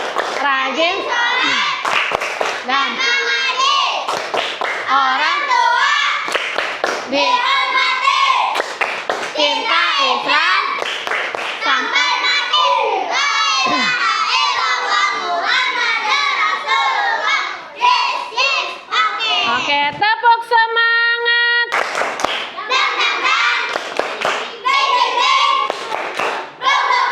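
Children in a classroom chant together in rhythm while clapping their hands in time, loud and close, with the teacher's voice joining in and a short sustained tone near the end.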